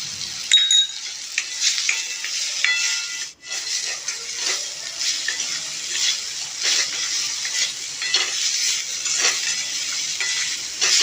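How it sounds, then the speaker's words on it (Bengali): Bitter gourd pieces are stir-fried and mixed in a pan, giving a moderate steady sizzle with soft scraping and clinks of a spatula turning the vegetables. "করলাগুলোকে ভালো করে মিশিয়ে নেবো"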